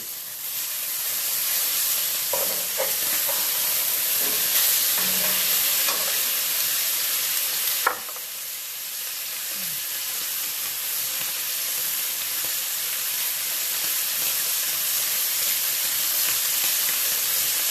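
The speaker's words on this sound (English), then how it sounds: "So once these steaks cook, I'm going to take them out of the pan" Steaks frying in a pan give a steady, loud sizzle and hiss, with a few clanks of stirring or handling near the start and a sharp knock midway.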